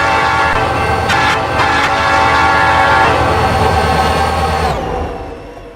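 A train in the video game Roblox sounds a loud, sustained horn for about five seconds over rumbling rail noise and clicking wheels, close and dominant before cutting off at the end.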